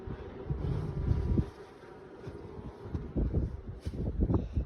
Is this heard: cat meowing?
no